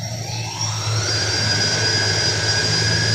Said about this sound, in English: So high thrust, low thrust, again high thrust, and then low thrust.